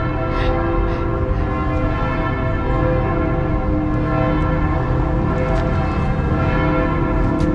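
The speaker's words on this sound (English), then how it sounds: "There goes another lot of bells." Big church bells peal from a bell tower in Soissons, loud and close, with continuous overlapping strikes and rich ringing overtones filling the whole stretch.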